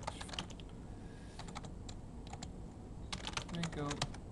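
Rapid clicking of computer keyboard keys while entering text during a Flash MX website-building tutorial, irregular bursts of close, moderately loud taps with a short pause in the middle and a brief voice near the end.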